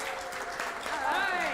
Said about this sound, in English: Everybody clap for Bennett.